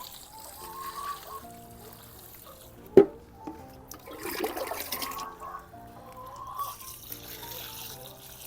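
Water poured onto garden vegetable plants growing in the ground, a soft trickle and splash with a sharp knock early on, faint against low background noise.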